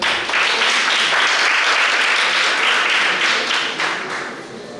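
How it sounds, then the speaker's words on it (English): Audience applause for a contestant at a junior science and maths quiz competition, a steady dense burst of clapping from many hands that holds for about five seconds before easing slightly. "Please, let's clap for her."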